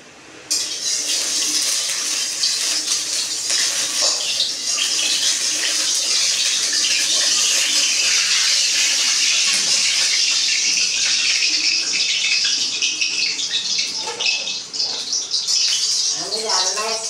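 Koi fish hitting hot oil to fry sets off a loud, dense, continuous sizzle that holds steady for the whole stretch, close up, with no talking over it.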